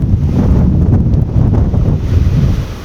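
Strong gusting wind buffets the microphone at an outdoor long-range rifle range, a loud, continuous low roar with surging gusts and no voices.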